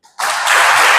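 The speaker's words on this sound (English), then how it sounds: "Please clap for the high table, please." An audience applauding a high table at a community walk-for-health event, a burst of dense clapping that starts abruptly and holds steady and loud.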